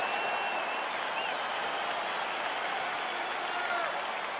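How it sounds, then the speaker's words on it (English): Steady roar of an arena crowd cheering and applauding in EA Sports UFC 4, a broad continuous wash of noise with no break as a fight gets underway. "crowd getting excited as this fight gets underway"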